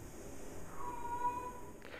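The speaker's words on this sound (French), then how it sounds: "Ce que vous avez entendu, c'est mon chat" A pet cat meows faintly from behind a closed office door, one drawn-out cry rising over a quiet room with no other sound.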